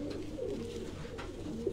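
A Sialkot Batera pigeon in breeding season gives soft, low cooing, faint and close against a steady background hum.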